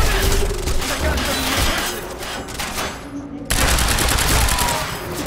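Sustained gunfire from the video game Quantum Break, a loud, dense volley of shots that dips briefly partway through, then resumes just as heavily.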